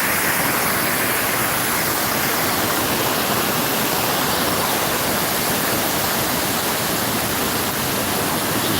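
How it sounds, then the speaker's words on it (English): Water at the Fort Worth Water Gardens in Texas rushes in a loud, steady, broadband roar that holds without letup for about nine seconds, with no voices. "This one's got a lot of water rushing too."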